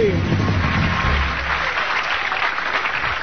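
A crowd applauds warmly for a contestant at a candidate show, a dense steady clapping that holds across the moment and fades slightly, with a host's voice over the opening.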